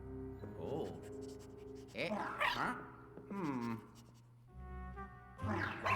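Ghost dog in the Luigi's Mansion 3 video game giving a few barks and whimpering growls, heard under a person talking over the game sounds.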